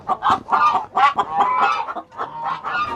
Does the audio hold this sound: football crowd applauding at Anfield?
no